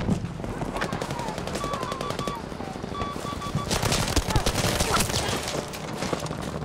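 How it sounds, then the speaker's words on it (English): Sustained machine gun fire in the Battlefield V video game battle at Narvik, rapid dense bursts running the whole time with other gunfire and battlefield noise, loud and close, with a voice shouting over it. "Enemy machine gunner over there!"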